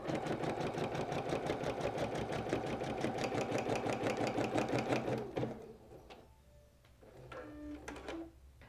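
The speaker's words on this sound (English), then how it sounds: "We're going to have it start stitching the design, but we don't need it to do the entire design, just that basting stitch to get us started." An embroidery machine sews a basting stitch around a monogrammed towel design, its rapid steady needle chatter running loud and continuous for about five seconds, then stopping and giving way to faint clicks and small mechanical noises.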